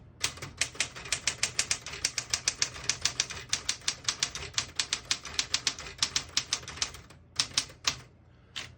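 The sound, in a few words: typing on a 1966 Smith-Corona Classic 12 portable typewriter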